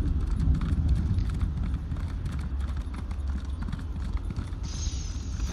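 A horse gallops under a rider in The Elder Scrolls Online, its hooves beating a fast, even clip-clop rhythm close up and loud, running continuously over a steady game ambience.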